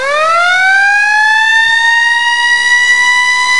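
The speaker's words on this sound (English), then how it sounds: "turn on the sirens as well" A loud, close emergency siren wails steadily, its tone rising slightly and then holding high, with no other sounds around it.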